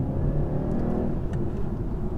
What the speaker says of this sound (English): It sounds like your bog standard, pretty average 2-litre engine, right?